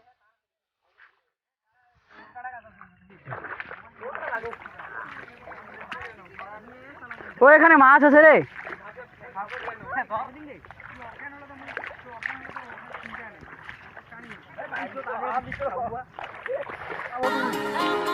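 A rowing boat moving through canal water, with gentle splashing and paddle strokes running under near-continuous excited talk from people aboard.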